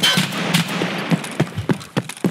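Gunfire in the video game Escape From Tarkov: about eight sharp, fairly close shots fired at an irregular pace, each cracking out over a low background rumble.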